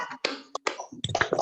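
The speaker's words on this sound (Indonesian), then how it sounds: "Tepuk dua." Students in a classroom clap twice in unison, crisp group claps close together, followed by a jumble of children's voices.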